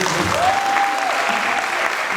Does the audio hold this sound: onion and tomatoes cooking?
no